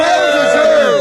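Wrestling crowd in a packed arena loudly cheering for the tag team Los Morochos, a sustained roar of many voices with rising chant-like tones, close and dense throughout the short burst.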